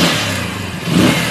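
A TMX155-type motorcycle engine runs steadily after carburetor tuning, a close, loud, rough mid-pitched drone that swells slightly near the end of a brief stretch with no talk.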